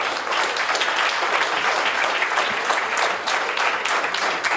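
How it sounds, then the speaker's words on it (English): Audience applause greets guests walking onto the stage at a skills conclave in Pune, a dense, steady clapping that runs loud and unbroken the whole time. "I think they need an applause when they come here."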